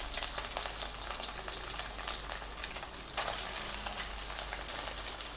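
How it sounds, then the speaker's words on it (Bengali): Soya chunks fry in oil with a steady, dense crackling sizzle that runs unbroken throughout, slightly louder toward the end, with no voices. "প্রথমে আমি সয়াবিনটা ভেজে নিচ্ছি"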